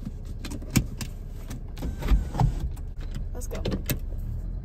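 A car interior as it pulls away: steady engine hum and road rumble with a few clunks and rattles, while a person speaks briefly over the noise.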